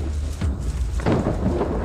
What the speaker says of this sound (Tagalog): Miss Lu, magkakasakit ka sa ulan na yan.